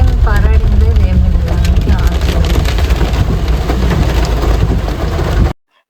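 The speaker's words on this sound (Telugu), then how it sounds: "తిరుమల కొండ కాబట్టి ఎలా వర్షం పడితే ఎక్కడ స్లోప్ ఉందో అక్కడ నీళ్లు పారుతూ ఉంటాయి" Heavy rain pours steadily on the Tirumala hills, with runoff water streaming down slopes beside a parked car, a dense loud wash that cuts off abruptly at the end.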